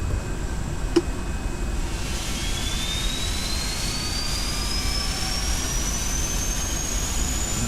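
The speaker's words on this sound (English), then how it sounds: "Starting engine 2." A Boeing 747 engine starting up, heard from inside the aircraft: a steady, loud roar with a thin whine climbing slowly in pitch, and no talk.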